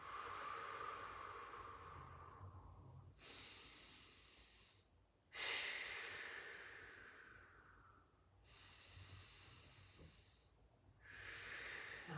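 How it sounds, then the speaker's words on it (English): Slow, steady breathing during a yoga breathing exercise, long airy inhales and exhales alternating in a calm rhythm, close and quiet with no talking. "Nice, steady breathing."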